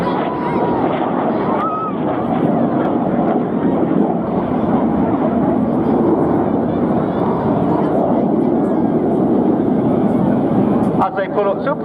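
Red Arrows jets roar past over Swansea Bay at the 2022 air show, a loud, steady, wind-buffeted engine rush that holds for several seconds before cutting off abruptly.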